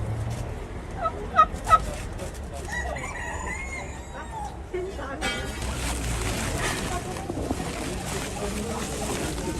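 A flock of turkeys raised in coops gobbles in a few sharp bursts near the start, then the sound settles into a steady crowd of fowl calls and background noise.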